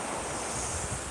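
Sea waves wash onto the white sand of Kuwang Wai Beach, making a steady, dense rush of surf with wind noise throughout.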